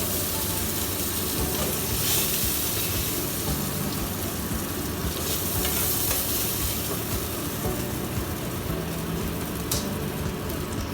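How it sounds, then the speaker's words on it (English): Veal sizzles steadily in a pan alongside vegetables for a veal stew, a loud, continuous frying hiss close to the microphone with faint stirring scrapes. "Add that to the rest of the veal. It's already sauteing off with the vegetables."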